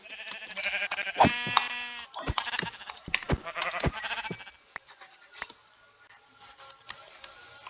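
Sheep bleating in a survival video game, several close, loud bleats with vibrato in the first four seconds, then quieter clicks and faint background game noise.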